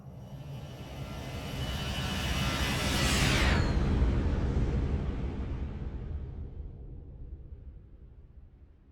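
A Boeing 737-800 jet does a flyby in the X-Plane 12 flight simulator, its engine roar swelling to a peak at mid-pass with a sweeping whine, then fading into the distance.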